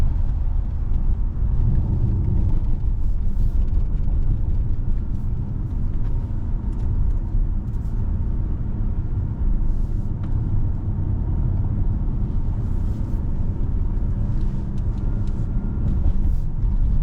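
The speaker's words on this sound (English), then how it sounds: "there's a big convoy of cars here" Dense, continuous low rumble of a long convoy of cars passing at night on a mountain road, heard from inside a moving Volkswagen Touareg, steady throughout with no pauses.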